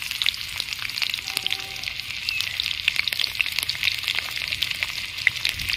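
Onion sizzles in hot oil with whole garam masala spices and curry leaves for a semolina breakfast dish, a steady, close, crackling fry running evenly throughout with no talking.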